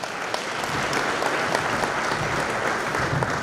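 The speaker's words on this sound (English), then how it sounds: "Let's give him another round of applause" A dense round of applause from guests at a women's soccer league dinner in a hotel, sustained crowd clapping that stays loud and even throughout, with no voices on top.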